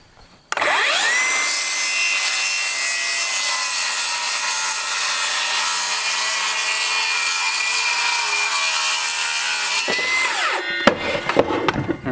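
A power saw cuts through wood on a bison ranch well house build, a loud, continuous whine that holds steady for about nine seconds, then stops abruptly, leaving a few faint clatters.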